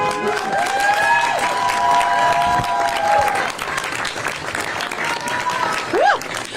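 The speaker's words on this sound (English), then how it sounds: "A big round of applause for her." Steady applause from a large crowd at a San Francisco officials' press event, continuous clapping with scattered cheers and whoops rising over it.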